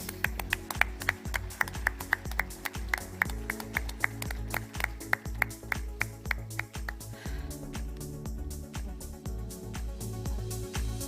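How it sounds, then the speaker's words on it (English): Audience applause at the News9 Global Summit in Germany: claps ring out over steady rhythmic music, and a broader wash of clapping swells in the final seconds. "Ladies and gentlemen, huge round of applause."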